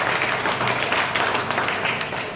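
Audience clapping fills a celebration hall at an Independence Day event in Bahadurgarh, a dense, steady patter of many hands throughout.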